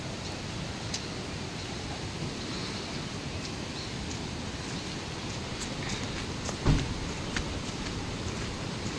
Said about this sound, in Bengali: আর এখন মনে হয় জলের বেগটা অনেকটাই বেড়েছে, সেই কারণেই এতটা শব্দ হচ্ছে